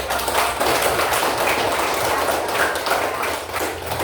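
Applause from a class of fifth-grade students, a steady dense patter of many hands clapping at once, fairly close and continuous for about four seconds with no voices over it.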